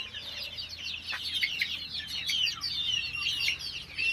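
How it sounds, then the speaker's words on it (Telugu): One-month-old chicks on a farm cheep in a dense, continuous chorus of high, overlapping peeps. The calls run steadily and fairly loud, with no voices. "ఇవి వన్ మంత్ కోడి పిల్లలు"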